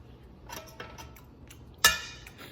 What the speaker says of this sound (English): I'm cutting another piece.